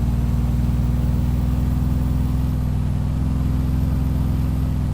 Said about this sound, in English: I'm gonna let the revs go up here just so we can listen.